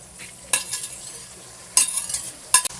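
Cabbage is added to onions in a frying pan, giving three bursts of sizzling and utensil scraping with a quiet hiss in between.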